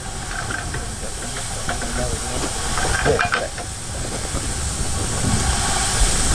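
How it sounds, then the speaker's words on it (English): A red one-foot-gauge steam saddle tank locomotive hauling a test train hisses steadily, with mechanical clanks and knocks over a constant loud rush of steam. "we used our red 242 saddle tank to haul the test train"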